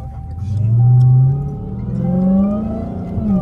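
A supercharged car engine fitted with a Corsa cold air intake revs twice close by, each loud rising and falling roar swelling and easing with a steady low drone in between.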